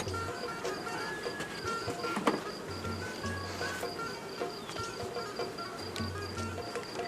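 Honey bees buzz steadily around an open hive during honey harvesting outdoors, a continuous droning hum with faint chirping insects and occasional clicks, no talking over it.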